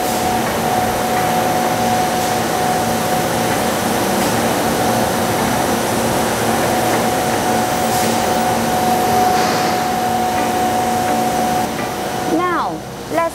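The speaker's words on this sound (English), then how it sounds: "The mechanical structure here is stretching the LED module." LED strip production machine stretching LED modules in a factory, a constant loud mechanical hum and whine with faint clicks near the end.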